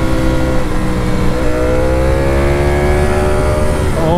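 A 2018 Ducati Panigale V4S ridden at speed roars loud and close with a rough, steady engine note, then pitch climbs in smooth rising sweeps as it accelerates through the gears, with wind noise underneath.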